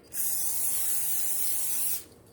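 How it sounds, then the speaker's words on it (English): One steady, loud hiss of cooking spray from an aerosol can into small baking containers, lasting about two seconds up close, then cutting off sharply. "So I'm gonna spray these little containers with some cooking spray."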